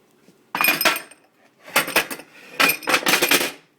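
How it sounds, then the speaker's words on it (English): Vegetables tumble into a soup pot in three clattering bursts, chunks knocking against the pot and each other with a clinking, splashy rattle, close and fairly loud, with short pauses between. "We're going to add the veggies into the soup now."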